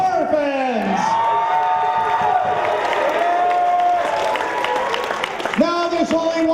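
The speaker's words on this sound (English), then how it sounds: "Can we have a big round of applause for Ken and Dee?" A crowd of horror fans at an anniversary show claps and cheers steadily while music with a sustained melodic tone plays over it throughout.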